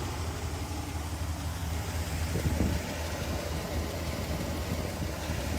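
A 1970 Cadillac DeVille convertible with an Edelbrock AVS2 carburetor idles steadily, a continuous low rumble that holds even throughout with no talking.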